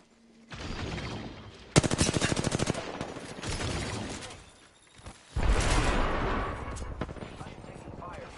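Gunfire in a video game: loud, rapid bursts of automatic shots, with a dense rattling run early on, then more broadband blasts and battle noise that continue to the end.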